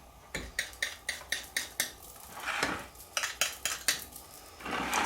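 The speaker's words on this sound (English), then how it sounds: "So I need a knife to cut it off." Knife trimming excess short crust pastry from the rim of a quiche dish: a rapid run of about a dozen sharp taps and scrapes against the dish, a short pause, then another quick series, close and clear with no talk.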